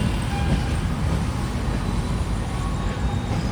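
An LHB-coach Garib Rath superfast express, just out of Secunderabad on its run to Visakhapatnam, gives a continuous, steady low rumble and rattle heard from on board.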